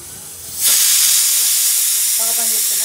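Steam from a pressure cooker on a stove bursts into a loud, steady hiss after a brief quiet start, then keeps rushing on without a break, with faint clatter near the end.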